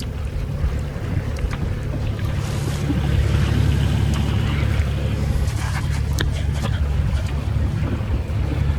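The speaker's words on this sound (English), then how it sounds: "The wind's smack on the nose at the moment" A strong headwind roars over a sailboat at sea, with a loud, continuous low rumble of wind buffeting the microphone and water rushing past the hull throughout.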